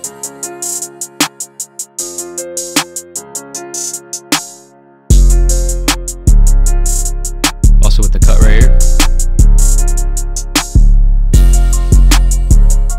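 A hip-hop beat made in FL Studio with crisp, rapid hi-hats over tonal chords; a deep, booming 808 bass drops in partway through and punches beneath the rhythm.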